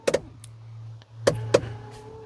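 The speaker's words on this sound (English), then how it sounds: "Did I do a wiper test?" Windscreen wiper running on a Chinese EV, a few short mechanical sweeps and thumps at an uneven rhythm over a steady low motor hum, close and fairly quiet.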